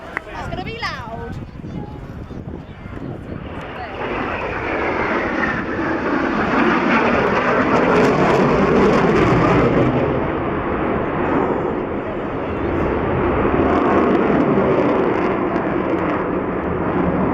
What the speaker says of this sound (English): The RAF Typhoon, Flight Lieutenant Johnny Doe.